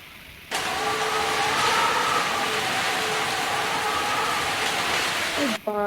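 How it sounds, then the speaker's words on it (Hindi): Heavy rain sets in abruptly as a loud, dense, continuous hiss that holds steady for about five seconds before cutting off near the end. "काम करते करते मैंने देखा कि बारिश स्टार्ट हो गई है।"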